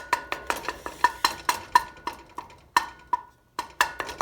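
Scrambled eggs are stirred in a warm pan, a steady series of about fifteen sharp utensil scrapes and taps against the pan in a quick, slightly uneven rhythm, close and clear with no talking.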